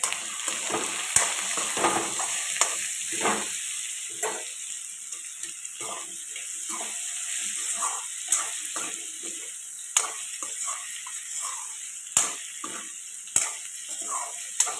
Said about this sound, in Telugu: ములక్కాడలో నుంచి పచ్చివాసన పోయేదాకా ఫ్రై చేసుకున్నామండి ములక్కాడ టమాటా కూడా ఫ్రై అయింది కదండి